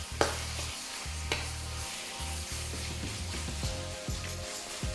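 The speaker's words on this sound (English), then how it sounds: "I'm going to press into the beef to sear and get a good colour on one side." Beef sears in a hot pan for a stir-fry, a continuous close sizzle broken by a few sharp scraping knocks of a utensil and a low thrumming hum underneath.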